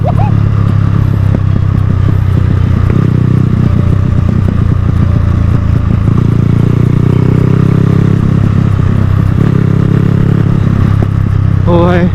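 Motorcycle fitted with inner-tube tyres being ridden, its engine droning loud and close with steady wind rush and some mechanical clatter, sustained for about twelve seconds with a brief rising tone at the end.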